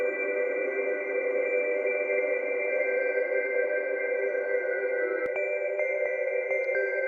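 Dark ambient reverb with a long tail and a large room size, a steady sustained wash of layered tones that holds evenly throughout, with a few brief clicks near the end and no talking.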